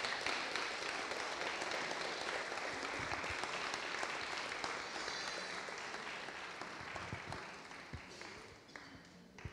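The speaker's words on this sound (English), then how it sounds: "Let's just give them a round of applause as they come up." A church congregation applauding as a family comes up on stage, a sustained wash of many hands clapping that slowly fades, with a few voices under it.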